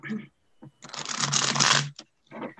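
A tarot card deck printed with planets and star constellations being shuffled, a dense papery riffle rising to a loud burst for about a second, with a voice speaking briefly before and after.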